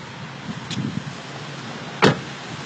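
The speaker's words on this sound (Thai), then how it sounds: "เวลาเราปิดประตู" A Honda Jazz car door is shut: one solid, close thud stands out after some faint shuffling and handling noises, with a quiet background before and after.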